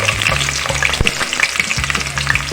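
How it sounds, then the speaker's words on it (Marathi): Cumin seeds crackle and sizzle in hot oil in a pan, a dense steady spatter with small pops throughout, alone and close, for a mixed vegetable dish. "थोडं तेल गरम झालेलं आहे आता आम्ही जिरं टाकणार आहे"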